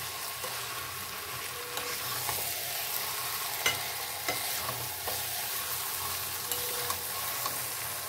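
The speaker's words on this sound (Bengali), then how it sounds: "সামান্য একটু আলুটাও এর সাথে কষিয়ে নেব" Fried potatoes sautéed and stirred in a pan, a continuous close frying hiss with frequent light scrapes and clicks of the spatula spread through, no voices.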